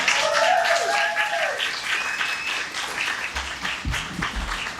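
An audience at a Nerd Nite talk on skin care applauds the speaker AJ, a full round of clapping that gradually thins out, with some crowd murmur and a brief low voice near the end.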